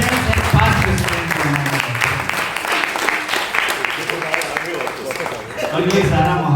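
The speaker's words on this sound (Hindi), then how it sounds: "एक बार जोरदार तालियां" An audience at a poetry event applauds in a dense, loud stretch of clapping that runs almost throughout and briefly thins before swelling again near the end.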